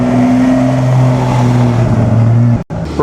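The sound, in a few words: Aston Martin classic car passing at Mille Miglia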